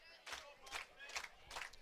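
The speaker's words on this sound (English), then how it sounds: "Crowd rising to their feet here, getting the clap going behind Peters" At a Cardinals baseball game against Guelph, the crowd rises and claps in unison behind a batter, a faint, distant run of evenly spaced claps.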